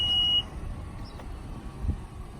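A single clear electronic beep from a 2019 Honda Pilot Touring's power tailgate, followed by a quiet low hum as the tailgate moves and a soft thud as it latches.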